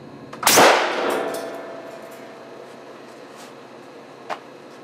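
An air cannon fires a solid hard-alloy projectile into a working microwave oven, a single loud sharp blast with a ringing tail that fades over a second, followed by a small faint knock a few seconds later.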